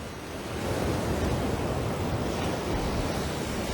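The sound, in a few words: powerful ocean surf crashing in a cove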